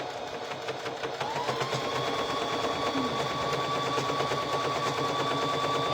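A sewing machine runs in a fast, steady rhythmic whir while stitching a quilt star appliqué onto a Christmas shirt, close and continuous, with a faint high whine rising partway through and no talking.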